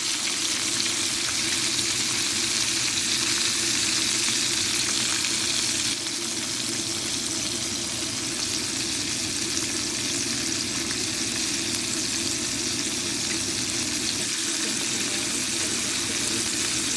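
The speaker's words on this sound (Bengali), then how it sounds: "আমি চিকেনগুলো সুন্দর করে ভেজে নেব" Coated chicken pieces fry in a pan of oil, a loud, dense, continuous sizzle that holds steady for a long stretch with small shifts as pieces move.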